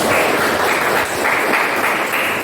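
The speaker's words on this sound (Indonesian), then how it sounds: "tepuk tangan dulu buat saya" Students in a classroom clap together for their teacher, a dense, steady round of applause that fills the whole moment without any voices.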